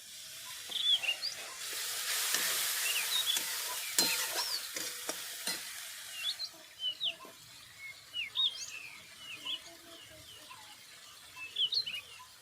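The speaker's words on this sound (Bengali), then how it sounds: "এরপর সব মশলাগুলো আমি খুব ভালো করে ভেজে নেবো" Spices frying in a pan for Bengali dhokar dalna: a soft sizzling hiss with scraping stirs and clinks, close by, while birds chirp intermittently in the background.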